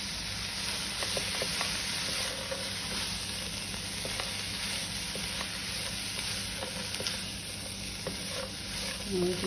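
Bean sprouts fry and are stirred in a pan, giving a steady, fairly quiet sizzle with occasional scraping ticks throughout.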